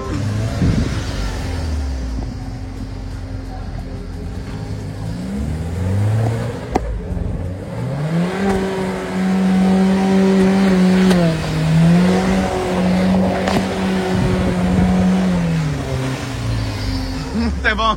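Stunt car engine revving hard as the driver accelerates, a loud rising and falling roar with sustained high revs, alongside people talking nearby.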